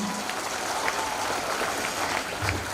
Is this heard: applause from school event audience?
yes